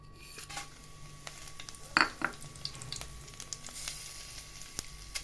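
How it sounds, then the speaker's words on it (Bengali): Panch phoron, dried red chillies and bay leaves hitting hot oil in a pan: a faint, steady sizzle with a few sharp crackles and pops, and light clinks of a utensil stirring. "এবারে দিচ্ছি ফোড়নে পাঁচ পাঁচ ফোড়ন শুকনো লঙ্কা আর তেজপাতা"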